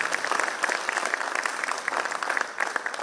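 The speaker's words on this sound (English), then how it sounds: "Can we give a big round of applause for them?" Audience at a silver jubilee alumni meet breaking into applause, dense sustained clapping from a large crowd in a hall, fairly close and continuous for the whole stretch with no talking over it.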